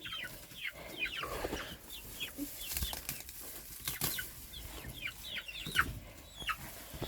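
Chickens cluck and chatter in short, scattered calls, with occasional wing flaps and rustling close by.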